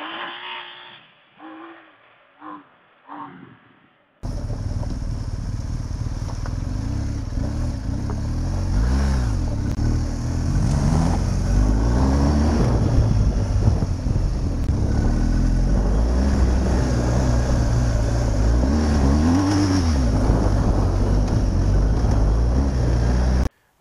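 A 2019 BMW R1250 GS adventure motorcycle is ridden on the road, its engine droning loudly and steadily with rising and falling revs, after a few seconds of quieter bumps and rustles.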